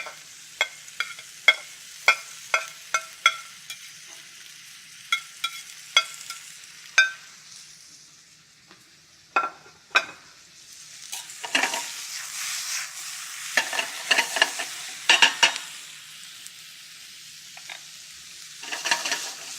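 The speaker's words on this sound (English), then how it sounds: "And I'm also going to add some tomato." Garlic, vegetables and diced tomato sauté in a pan: repeated scraping stirs and clicks of a utensil over a soft sizzle, growing into louder bursts of frying in the later part, with no talking.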